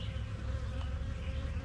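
Honey bees buzzing loudly and continuously at close range while nurse-bee frames from a hive are handled, a dense steady drone with no talk.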